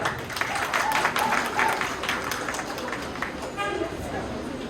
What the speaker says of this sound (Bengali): আরো একবার করতালি হয়ে যাক।